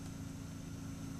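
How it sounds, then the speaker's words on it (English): A lawnmower runs outside with a steady low engine drone, faint and distant, continuous and unchanging throughout. "sorry about the lawnmower outside."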